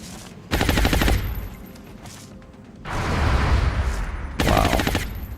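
Bursts of gunfire from the XCOM Long War video game, a loud half-second volley followed by a longer rattling stretch and another sharp burst near the end, with no talking.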